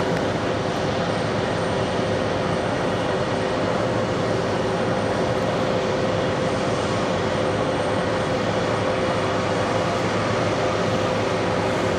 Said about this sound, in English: This is ASL Airlines Flight 11.